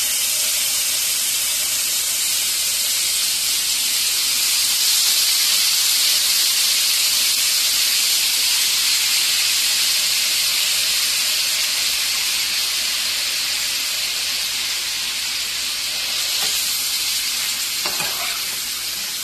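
Chicken pieces and cashews frying in butter, a loud continuous sizzle and hiss that holds steady throughout, with a faint clatter near the end and no talking.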